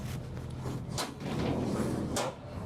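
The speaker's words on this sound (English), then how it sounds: "We got a nice little slide tray there. Let me open that guy up." A slide-out storage tray on a Fleetwood Discovery LXE 40M motorhome being pulled open, with a couple of sharp rattling clacks followed by a smooth rolling slide, close and fairly loud.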